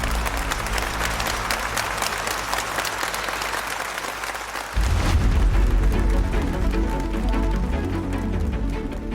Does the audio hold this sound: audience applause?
yes